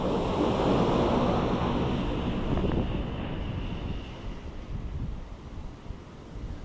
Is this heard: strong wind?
yes